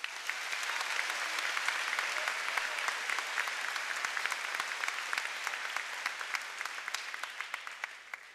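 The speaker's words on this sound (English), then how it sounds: "Let's have another round of applause for these great speakers." A high school graduation crowd applauds the speakers, a sustained wash of many hands clapping with sharper individual claps standing out, moderately distant and steady throughout.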